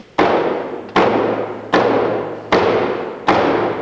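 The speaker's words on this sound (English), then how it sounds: "Then all the soldiers would bang their swords against their shields." Soldiers bang swords against shields in five heavy, evenly spaced strikes, each a loud close thud that rings and fades before the next, with no voices.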